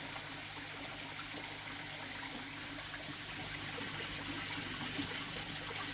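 Steady rushing and splashing of water falling over stones at a frog pond waterfall, a constant broadband wash at moderate volume with no voices.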